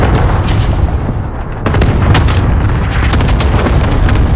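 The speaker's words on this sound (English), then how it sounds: "Allied cluster strike incoming" Cluster strike explosions rumble in Call of Duty: Modern Warfare, a loud, sustained barrage of deep booms and sharp cracks rolling over one another with no pause.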